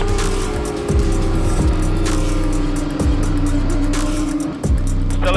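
Race cars speeding around a track during a race, loud engines droning and shifting pitch as several cars pass close by in quick succession, with brief dips and surges between passes.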